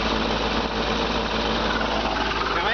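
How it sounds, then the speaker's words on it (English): A steady, smooth engine hum from an idling 1973 GMC grain truck runs without change, close and fairly loud, with an even mechanical buzz and no breaks or revving. "As you can hear, this engine it's just smooth as silk, just purrs like a kitten"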